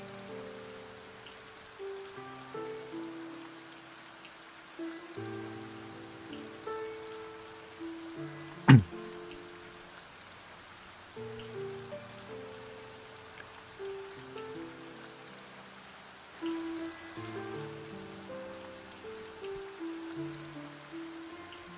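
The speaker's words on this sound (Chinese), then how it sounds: "正在下雨是不是？" Rain falls in the action RPG Epic Conquest 2 as a soft, steady patter under gentle game music, interrupted once by a single sharp click.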